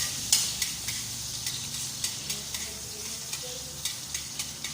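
Garlic frying in oil in a pan, a steady sizzle with soft stirring taps at regular intervals, close and fairly quiet.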